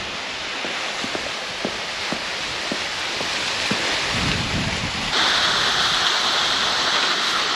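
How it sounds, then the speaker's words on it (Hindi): The main waterfall at Pine City, Pir Sohawa near Islamabad, gives a loud, steady broadband roar of falling water that grows denser and hissier toward the end, with no voices. "ये है जी मेन वाटरफॉल,"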